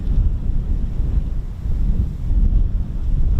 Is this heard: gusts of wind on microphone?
yes